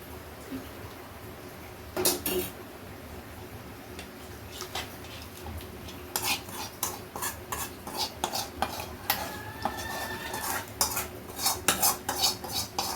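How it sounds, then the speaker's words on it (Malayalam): Sambar in a pot has sambar powder and tempering oil stirred into it, with a spoon clinking and scraping against the metal in irregular bursts that grow busier and louder toward the end. "അതിലോട്ടിട്ട് നല്ലോണം മിക്സാക്കി എടുക്കാം"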